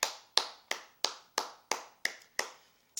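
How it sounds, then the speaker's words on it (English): Nine sharp hand claps in a steady, even rhythm about a third of a second apart, close and crisp, with nothing else heard. "I applaud Michael Jackson."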